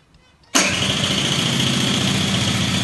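An engine catches abruptly and settles into a loud, steady running drone with a dense mechanical rattle, after a brief quiet stretch; no clear throttle swells are evident.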